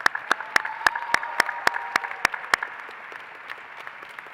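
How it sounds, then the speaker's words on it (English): A small group claps for faculty at a dental medicine graduation ceremony, with sharp, fairly regular claps that thin out and fade after a few seconds in a large room. "So I want to give a round of applause for our faculty who've shown up here."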